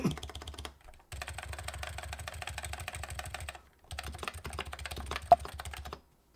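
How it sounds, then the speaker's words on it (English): Rapid clattering keystrokes on a computer keyboard come in two dense bursts separated by a brief pause, close and steady with no talking, ending in silence. "I'm just typing random shit into my notepad now."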